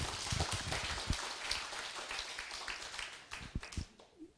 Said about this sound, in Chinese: 大家自己鼓掌。